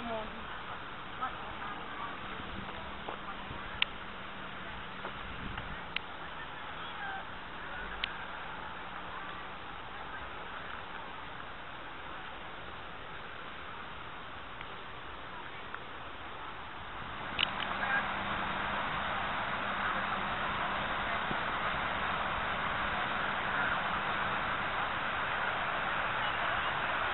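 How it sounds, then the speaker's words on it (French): Ducks and geese call beside the water at Sainte-Anne-de-Bellevue, with occasional quacks and honks rising over a soft ambient wash that grows louder partway through; people talk nearby. "On entend les oiseaux, le bruit de l'eau."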